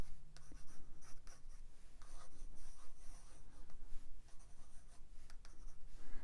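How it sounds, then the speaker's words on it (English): A pencil sketches lightly on paper as a comic artist lays in a drawing, a continuous close scratching and rubbing with quick strokes and brief pauses, alone without talk. "I like to pencil real lightly"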